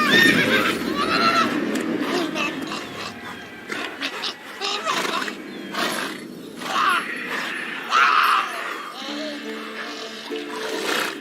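Roach the horse in the video game The Witcher 3, several loud neighs and whinnies with snorts and hoof sounds, close by, amid game voices.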